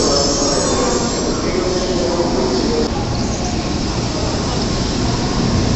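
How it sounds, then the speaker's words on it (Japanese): A Shinkansen Nozomi 227 bullet train bound for Shin-Osaka pulls in at platform 14 of Kyoto Station, a steady loud roar of rolling wheels and rushing air with a faint wheel squeal, continuous and close throughout. "右側こちら14番線に到着した電車、こちらは京都駅14時16分発ののぞみ227号新大阪行きです。"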